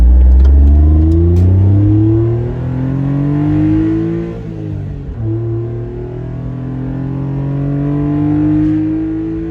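A Honda Beat scooter engine pulls hard up a long 5 to 10 degree road incline. Its loud, close drone climbs in pitch, drops briefly at a gear or throttle change, then rises steadily again, with no talking.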